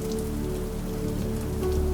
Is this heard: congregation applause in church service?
no